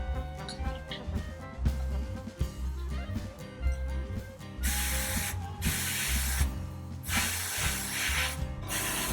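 Airbrush hissing paint onto a Mosquito FB Mk. VI scale model with the nozzle opening cut to a minimum, a steady close spray in short bursts over quiet background music.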